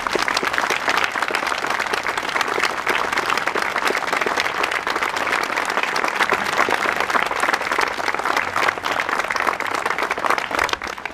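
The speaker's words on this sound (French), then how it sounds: "je voudrais vraiment qu'on l'applaudisse très très fort" Sustained applause from an audience at a July 14 civic ceremony in Barentin, dense steady clapping from many hands at an even level for the whole stretch, with no voices over it.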